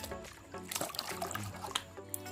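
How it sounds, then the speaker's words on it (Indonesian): Water is poured slowly over a two-month-old baby civet during a bath, making a soft, close, irregular trickle with small splashes and drips. "kalau udah kayak begini kalian bisa siram pelan-pelan"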